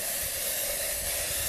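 Liquid misted from a spray bottle onto a still-hot glass, a short continuous hiss lasting about a second and a half, close and steady, no talking.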